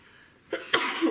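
A sneeze bursts out during a board game session, a short two-part burst of breath after a quiet moment, close and fairly loud.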